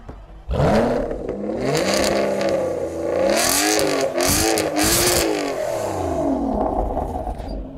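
An Aston Martin GT12's V12 engine fires up and revs hard several times, rising and falling in pitch with sharp throttle blips, loud and close.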